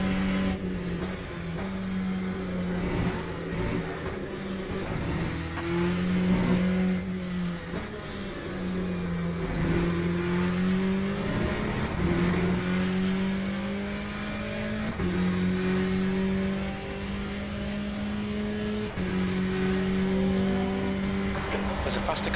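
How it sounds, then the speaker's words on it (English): A race car engine drones and shifts pitch steadily, rising and falling through gear changes in Le Mans Ultimate during a race. The engine noise stays loud and continuous while a voice speaks over it. "There's a faster car bearing down on you."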